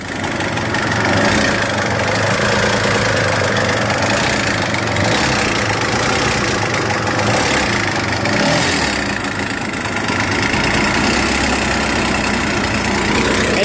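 A long-abandoned jet ski engine runs rough on only one cylinder, a steady loud mechanical drone with a knocking, uneven idle that continues without a break.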